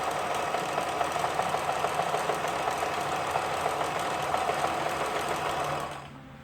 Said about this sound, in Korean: 약 한 25년 된 라이온 미싱의 372 제품 모두 수리를 마치고 정상 바느질 되는 것을 테스트하는 영상이었습니다.